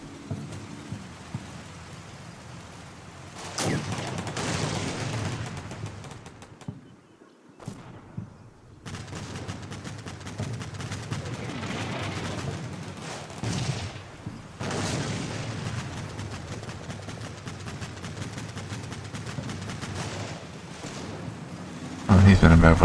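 Combat Mission Black Seas plays out as a battle, with rolling bursts of gunfire and booms over a dense rain-like crackle, one brief quiet gap, and a voice speaking at times over the fighting.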